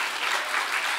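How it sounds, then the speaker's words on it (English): Dense, steady applause from a church congregation at a revival service in Cleveland, Tennessee, a continuous wash of many hands clapping with no gaps. "let's just give the Lord a clap"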